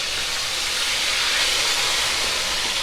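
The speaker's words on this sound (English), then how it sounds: "I'll just be adding the pork to the oil" Pork sizzling in hot oil in a pot for Jamaican jerk pork, a loud, steady, close hiss of frying that holds evenly throughout without pauses.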